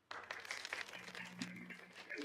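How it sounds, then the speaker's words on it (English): Audience at an academic teacher-education conference in Taiwan clapping to welcome a professor to the podium, a quiet, fairly steady patter of hands heard somewhat distant, with a voice speaking briefly over it. "applause."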